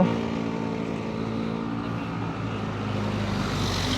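A Honda PCX 160 scooter engine with an aftermarket muffler runs close by, a steady throaty hum that swells as the revs rise toward the end.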